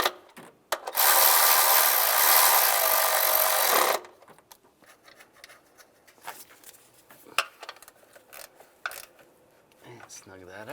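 Ratchet or power driver tightening the bolts on the cylinder-deactivation intake manifold of a 2007-2013 Chevrolet Silverado 1500, heard as one loud, steady mechanical whir of about three seconds, followed by quieter scattered clicks and handling noises.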